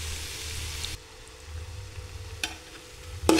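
Onion sizzles in a pan with onion-garlic spice masala: a steady frying hiss that softens after a second, with a couple of sharp clicks of stirring later.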